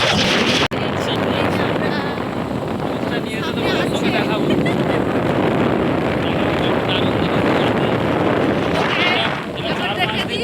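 Strong wind roars steadily across the microphone while riding a vehicle along a road near Shoula, a continuous loud buffeting rush that barely lets up, with a brief sharp knock near the start.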